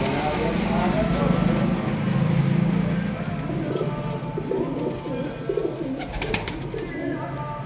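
Captive pigeons at a bird seller's place in Bareilly give a continuous low cooing close by, while voices talk over them and faint traffic sounds behind.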